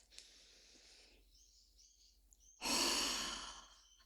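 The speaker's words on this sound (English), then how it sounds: "Deep breath." A person takes a deep breath during an EFT tapping session, with a soft inhale early on, a quiet pause, then a loud, close, breathy exhale lasting about a second and a half.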